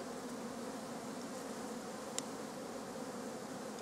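Honeybees and drones fly around the hives on a village homestead in June, a steady, dense buzzing hum that fills the whole stretch with no talk over it.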